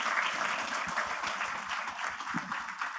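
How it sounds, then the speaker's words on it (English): Audience applause for a tech stage panel, a dense steady wash of many hands clapping at moderate level for about three seconds with no talking over it. "A round of applause for them,"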